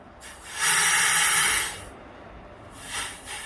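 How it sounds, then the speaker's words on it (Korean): Compressed air sprays onto automatic transmission parts during servicing, one loud sustained hissing blast followed by a shorter, softer burst. "여기다 대고 에어로 분사를 하게 되면 어떻습니까"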